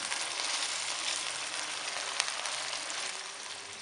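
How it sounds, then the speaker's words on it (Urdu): Chicken and freshly added carrots frying in a pan give a steady, close sizzle and crackle throughout, with one small clink partway through and no voices. "اب اس میں گاجریں شامل کر دیں گے. اس کو تھوڑی دیر فرائی کریں گے 1 سے 2 منٹ."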